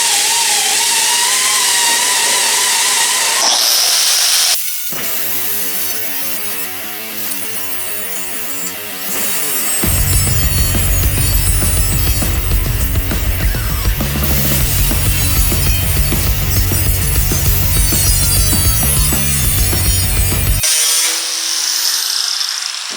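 Disc wheel grinder cutting a rusted fender panel on a 1970 Ford Torino, a loud continuous high-pitched whine and abrasive metal screech that stops, restarts and runs steadily before winding down.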